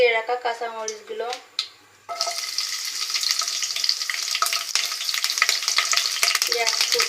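Green chillies hit hot oil in a frying pan, and a broad, steady sizzle erupts after an opening stretch of voices, continuing loud and crackling to the end.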